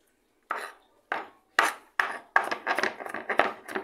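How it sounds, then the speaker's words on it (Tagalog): A knife chops onion and garlic on a cutting board in a home kitchen, a few separate close cuts that speed up into quick, uneven chopping. "today's video ay naghihiwa tayo ng sibuyas at bawang dahil tayo ay magluluto ng ating breakfast"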